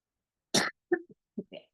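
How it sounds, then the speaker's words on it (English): A single sharp cough from an adult speaker is followed by a few softer throat-clearing hacks, close and dry against a silent background. "Pardon me for my cough,"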